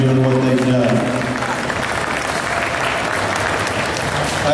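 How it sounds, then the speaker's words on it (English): An audience claps in the show ring at the Ak-Sar-Ben Goat Show 2012, dense loud applause holding steady for several seconds before easing slightly. "they deserve a round of applause for going through this project"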